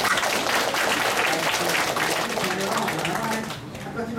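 A seminar audience claps in a lecture hall, a thick burst of applause that tapers off near the end. A voice talks over it.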